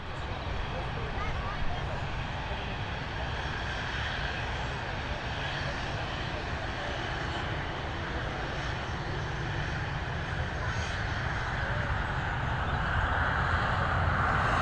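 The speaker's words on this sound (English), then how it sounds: "Heading over to London Gatwick now, another A320." Airbus A320 airliner departing Dublin Airport for London Gatwick, a steady broadband engine roar that stays loud and continuous throughout with no break, while a person talks over it now and then.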